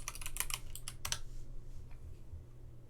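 Quick bursts of clicky computer keyboard typing, with several rapid keystrokes and short pauses, sound close and fairly quiet. After about a second and a half the tapping fades into a low background hum.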